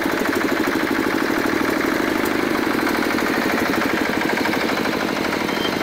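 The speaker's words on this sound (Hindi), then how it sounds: "ये आप देख सकते हो हमारा दूसरा भी जेनसेट स्टार्ट हो चुका है" A 10 kW diesel genset with a 14 HP engine on a large-tyred trolley runs steadily, a loud continuous rumbling drone with a fast chugging pulse and no breaks or talking.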